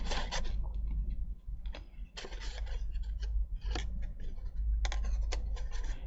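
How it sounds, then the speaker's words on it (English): Close, quiet snips and rasping cuts as scissors work through paper in short irregular bursts, with no talking. "It does also help if your scissors are nice and clean, so you don't get stuck on things like I am."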